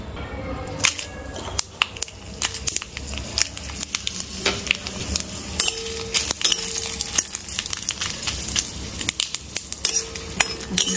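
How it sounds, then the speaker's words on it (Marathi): Green chilies fry in a little oil in a pan, a spattering crackle broken by frequent sharp metallic clinks of a spoon against the pan, close and busy, with no talk. "मिरची तर चांगली हे करणार आहे आणि तेलामध्ये परतून घेणार आहे थोडंसं तेलात."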